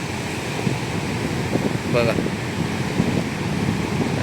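Heavy sea waves surge against the shore at Ganpatipule, a continuous broadband roar with wind buffeting the microphone and someone speaking briefly over it.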